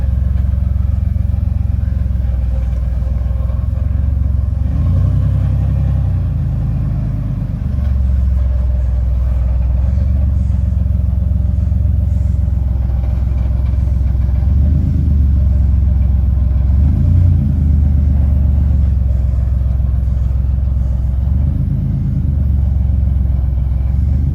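A car engine runs steadily and loudly, a continuous low rumble with slight swells throughout and no voices.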